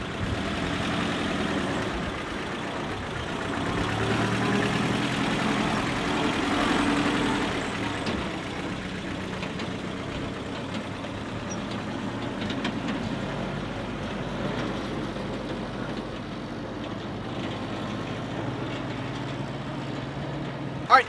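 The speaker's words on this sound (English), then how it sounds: "In first gear, low range, the thing just crawls over anything." A rusty 1948 Willys Jeep crawls off-road in first gear, low range, on Moab terrain, its engine giving a steady, loud, low rumble that holds for the whole stretch, with rough broadband noise over it and a sharp knock at the very end.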